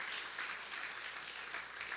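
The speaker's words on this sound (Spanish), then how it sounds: "Dan un aplauso al Señor." A church congregation applauds during a service, a steady wash of clapping from many hands that fills the room evenly and continues without a break.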